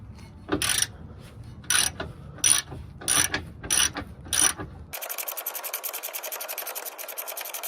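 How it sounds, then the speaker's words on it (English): A ratchet works a 19mm bolt on the lower control arm of a 2001-2005 Honda Civic: six distinct clicking strokes at a steady pace, then a continuous fast ratcheting buzz that runs to the end. "Alright, so we just loosen the bolt right here."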